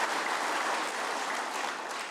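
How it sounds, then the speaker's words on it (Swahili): Sustained applause from a large audience at a Kenyan political rally in Tharaka Nithi, many hands clapping together in a thick, steady roar that holds level throughout. "Mujipigie makofi tena."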